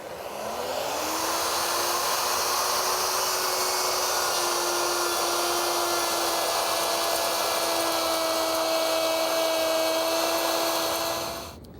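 A router fitted with a rabbeting bit and bearing spins up with a rising whine, then cuts a rabbet in MDF with a steady, loud high-pitched scream and hiss that runs evenly for about ten seconds before stopping.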